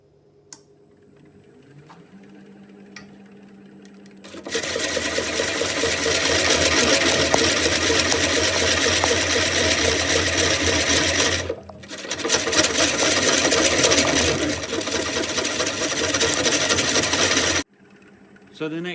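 A wood lathe turns the rim of a 20-inch burr oak platter held on a glue chuck, giving a loud, steady whirring cut that runs for about thirteen seconds, breaks off briefly once, then resumes before stopping abruptly.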